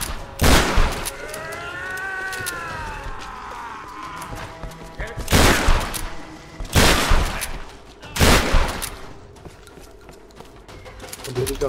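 Several loud bursts of gunfire in Tomb Raider, spaced a couple of seconds apart over a steady game backdrop with a whistling tone early on, with spoken remarks in between.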